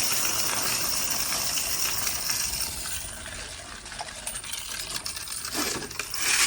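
Quarters pour steadily into a coin counting machine, a dense continuous metallic clatter and rattle filling the whole clip, swelling slightly louder near the end, with no talking.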